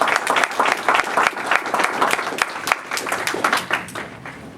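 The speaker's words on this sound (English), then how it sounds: "Give him a round of applause as he comes up." Audience at an Empire Board of Realtists members' event applauds as a speaker comes to the front: dense, sustained clapping from a sizable crowd, close and steady throughout, easing slightly at the very end.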